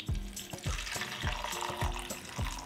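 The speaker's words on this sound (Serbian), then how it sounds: "sipam toplu vodu" Warm water pours into a cooking pot lined with a cloth and holding glass jars, a continuous splashing flow with rhythmic surges close by.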